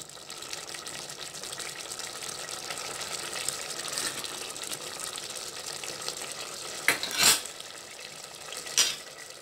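Red kidney bean rajma curry is stirred in a pot, a steady soft bubbling hiss throughout, broken near the end by two brief, sharper scrapes of the spoon.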